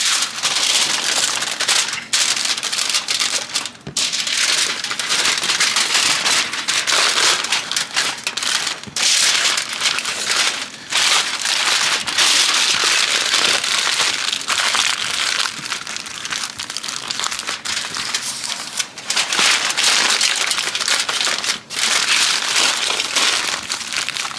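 Aluminum foil crinkles and crumples continuously and loudly up close as it is rewrapped tightly around baby back ribs during a barbecue cook on an Old Country Wrangler smoker, with sharp crackles throughout.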